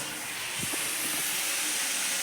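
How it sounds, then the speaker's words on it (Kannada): Steady broadband hiss of steam escaping from a faulty pressure cooker cooking rice, leaking water at the side, continuous and fairly loud throughout, with faint clinks underneath. "ಕುಕ್ಕರ್ ಸರಿ ಇಲ್ಲ ಏನೋ ಒಂಥರ ಈ ಥರ ಸೈಡಲ್ಲಿ ನೀರು ಹೋಗ್ತಾ ಉಂಟು"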